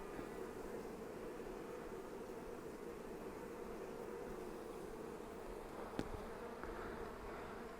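Honey bees in a nuc hive hum in a steady, continuous drone close by, with one brief sharp click near the end and no voices.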